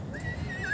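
A mare at a horse livestock market in Bishkek gives a short, fairly faint whinny that lasts under a second.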